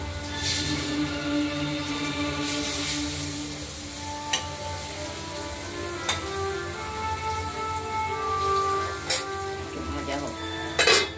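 Potatoes frying in a pan for katla fish curry, a steady sizzle throughout with occasional clinks of a spoon against the pan and a voice speaking over it.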